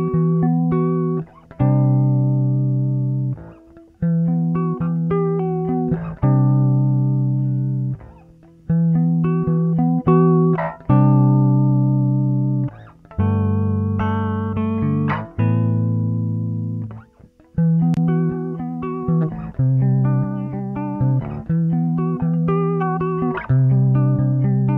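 Electric guitar played through a JHS Artificial Blonde vibrato pedal, strummed chords ringing out in repeated phrases with a wavering pitch modulation, loud and close with no talking.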